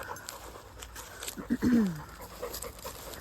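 A dog named Max pants during his first off-lead training session outdoors, a few quick breathy huffs and a short whiny vocal rise near the middle, fairly close and moderate in level.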